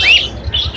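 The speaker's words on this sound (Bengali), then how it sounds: "অনেক সুন্দর পাখিগুলো" Pet birds squawking at the Mirpur bird market, where budgerigars and cockatiels are for sale: a brief pair of shrill squawks up close over a low background murmur.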